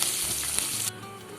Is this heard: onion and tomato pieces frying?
yes